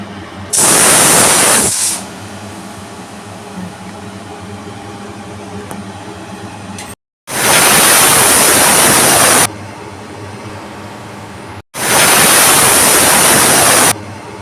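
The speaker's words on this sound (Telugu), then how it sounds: "మూడు విజిల్లు వచ్చేదాకా పెట్టుకోవాలి కుక్కర్" Loud bursts of hissing steam from a pressure cooker whistling while cooking moong dal with tomato, three long rushes separated by quieter stretches, close by with no talking.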